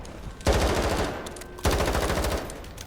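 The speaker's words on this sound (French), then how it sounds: "Très utile cette petite mitrailleuse hein" Machine gun fire in the Modern Warfare campaign: two loud close bursts of rapid automatic shots, each lasting about a second, separated by a short pause.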